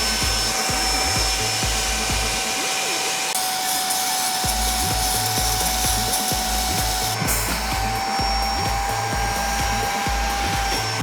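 A vacuum sucking dirt from a used Honda N-Box car seat during steam cleaning, a loud continuous motor whine with scraping and rubbing as the nozzle works the fabric, steady throughout.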